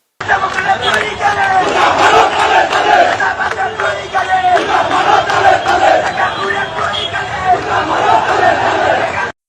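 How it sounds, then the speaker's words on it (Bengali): Protesters chant slogans in unison at a road blockade, a dense, loud crowd roar with rhythmic shouted phrases continuing steadily throughout. "ওনার সমর্থকেরা রাস্তা অবরোধ করে বিক্ষোভ করতেছে দেখেন দেখেছেন স্লোগান দিচ্ছে"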